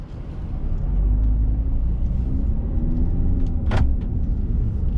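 A 2010 Ford Escape XLT on a test drive gives off a loud, steady low engine and road rumble from inside the cabin, with a brief sharp rattle near the end.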